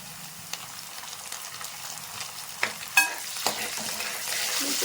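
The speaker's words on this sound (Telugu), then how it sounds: "మనం బాగా ఫ్రై చేసేసుకుందాము ఆనియన్స్." Onions with coriander, curry leaves and green chilies fry in hot oil with a steady, soft sizzle. Now and then a spoon scrapes or stirs the pan, giving a few sharper clatters.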